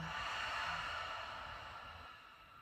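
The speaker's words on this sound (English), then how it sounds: "Breathe in a little deeper. Exhale." A slow, deep exhale during a guided breathing exercise, a soft airy breath close to the mic that fades gradually over a couple of seconds, with no talking.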